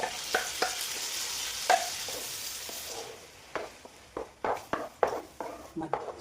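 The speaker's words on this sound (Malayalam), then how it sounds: "ഞാൻ അടിച്ചു വെച്ചേക്കണ ചക്ക മിക്സിയിൽ അടിച്ചു വെച്ചേക്കണ ചക്കയാണ്." Blended jackfruit cooking in butter in a pan: a close, steady sizzle for the first few seconds, then the spatula's irregular scraping strokes as the mixture is stirred.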